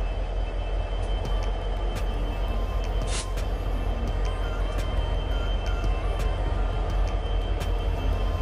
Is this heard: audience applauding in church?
no